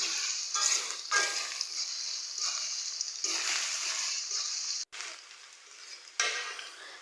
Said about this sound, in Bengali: পেঁয়াজগুলো আমি হালকা বাদামি কালার করে ভেজে নেব।